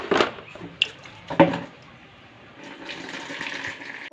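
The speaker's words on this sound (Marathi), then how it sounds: "नळाला पाणी आले, पहिलं पाणी भरून घेतो घरातलं." Tap water gushes into a household container, with a few sharp splashes and knocks early on and then a softer, steady filling rush toward the end, all fairly faint and with no speech.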